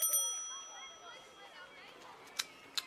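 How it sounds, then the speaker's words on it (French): A small hand bell, rung beside a poolside, gives two short bright dings late in the clip, separate from each other, over faint background talk and birdlike chatter. "moi, je m'occupe de la petite cloche"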